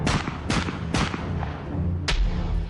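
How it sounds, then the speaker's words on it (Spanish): Sharp gunshots from a firing squad during the 1975 state of emergency in the Basque Country crack out singly at uneven intervals, three in quick succession and then one more after a pause, each loud with a short decaying tail. "No fue una descarga, fueron disparos, 1 a 1 o 2 a 2"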